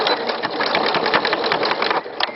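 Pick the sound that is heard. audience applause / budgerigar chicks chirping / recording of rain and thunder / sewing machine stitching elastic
sewing machine stitching elastic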